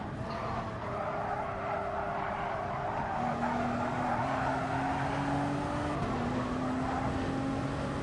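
A race car in Gran Turismo Sport brakes into a corner, its engine tone dropping in stepped downshifts while tires squeal and skid continuously, loud and steady with no talk.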